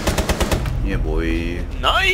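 Rapid automatic gunfire bursts out in Rainbow Six Siege at Hereford Base, a loud, quick string of shots in the opening half-second, then a voice talks over the rest.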